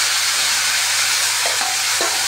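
Arum flowers fry with shrimp in a pan, giving a steady loud sizzle while a utensil stirs and scrapes, with a few soft knocks against the pan.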